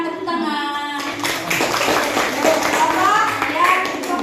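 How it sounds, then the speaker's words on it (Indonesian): Students in a classroom clap for a group's presentation, starting after about a second as a dense, steady patter of many hands mixed with children's voices chattering over it. "Silakan tepuk tangan."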